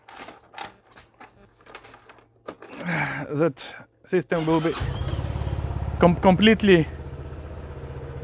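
A Silverblade engine is started after a coolant flush, cranking and catching partway through, then settling into a steady low idle close by while someone talks over it.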